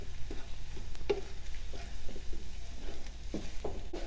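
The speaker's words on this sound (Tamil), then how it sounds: "இப்போ முட்டையை போட்டு நல்லா கிளறியாச்சு" Eggs are stirred and frying in a pan for a pasta dish, giving soft sizzling under scattered scrapes and taps of a spoon against the pan, close and moderately loud.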